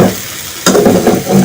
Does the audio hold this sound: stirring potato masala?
yes